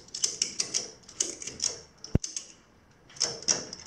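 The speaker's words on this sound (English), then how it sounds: "I'm gonna try to see if I can't pull it up with this ratcheting strap" A ratcheting strap is cranked tight to lift the motor out of a Robland X31 woodworking machine, giving bursts of quick, close metallic clicks in short runs, with one sharp knock partway through.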